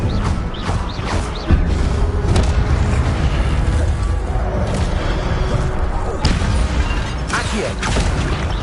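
Spells cast in the Hogwarts Legacy game produce a dense run of loud booms, thuds and whooshing blasts over a continuous rumbling backdrop, with a voice calling out spell names among them.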